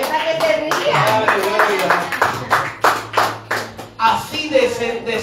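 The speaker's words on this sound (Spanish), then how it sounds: "Den un aplauso al Señor, gloria a Dios." A church congregation claps in rhythmic bursts during a lively worship service, the beats uneven and strongest near the end, while a preacher's voice and other chatter carry over the top.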